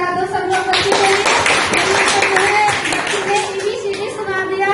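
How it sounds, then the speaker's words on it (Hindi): A group of people, children among them, claps for a fourth-grade child after he recites the alphabet, with brisk, dense clapping nearby and talking over it. "ताली बजा दो सब लोग बच्चे के लिए।"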